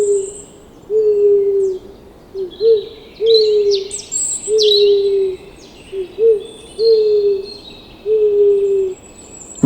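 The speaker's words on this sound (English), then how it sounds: "Owl." An owl hoots in a steady series of about nine low, even calls spread across the stretch, clear and close, while faint high bird chirps twitter in the background.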